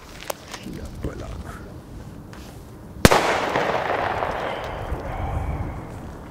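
A Chinese firecracker goes off outdoors during an Advent fireworks session: one sharp, loud bang near the middle, followed by a lingering rumbling decay, with faint voices and small pops before it.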